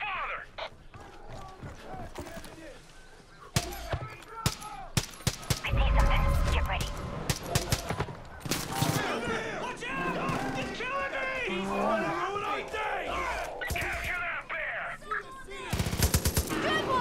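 Far Cry 5 video game gunfire during a fight against cult members: repeated sharp gunshots and bursts of rapid fire, loud and close, mixed with game sounds and character voices.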